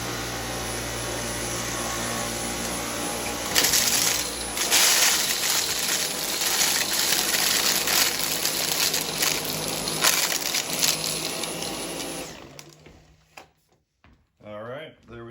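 Shark Vertex DuoClean and Dyson Cyclone V10 Motorhead cordless vacuums sucking up popcorn, a steady loud motor whine with crackling, rattling pickup bursts, cutting off near the end into brief quieter rustles.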